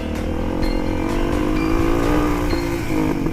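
Motorcycle accelerating hard out of a corner with the rear wheel spinning, a loud, close, steady high-revving engine roar that climbs in pitch, with no talk over it.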